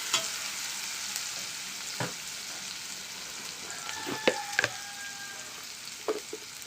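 Ginger paste and chili powder frying with bitter gourd in a pan for a masala curry, a quiet steady sizzle broken by a few stirring scrapes and utensil clinks.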